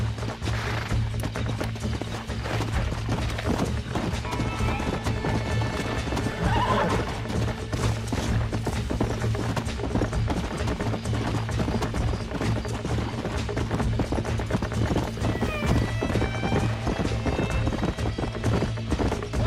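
In the video game Red Dead Redemption, hooves clip-clop steadily at a run while a horse neighs and whinnies several times over a constant low musical drone.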